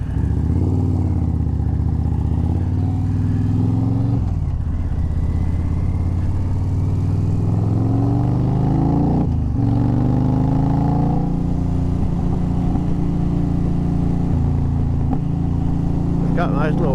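Motorcycle engine rumbling and burbling steadily throughout, loud and close, with occasional swells in pitch as it revs.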